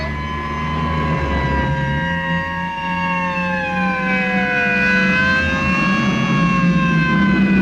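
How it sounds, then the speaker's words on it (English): Several state trooper cars come down a mountain road with their sirens blasting, a loud, continuous wail. Multiple overlapping tones rise and fall over a low engine rumble, with no talking. "You couldn't possibly be surprised with all those sirens blasting."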